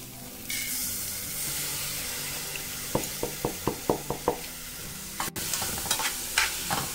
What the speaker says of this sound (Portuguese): Fritei alho, cebola, um pouquinho de banha.